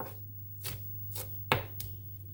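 A knife chops parsley on a cutting board, a few sharp separate strikes spaced out over a couple of seconds, close and fairly quiet against a steady low hum.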